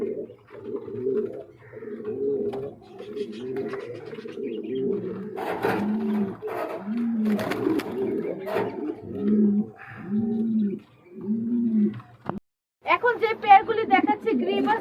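Gribaj pigeons in a loft give repeated soft, low coos in a steady rolling rhythm, close by. Someone talks over them near the end.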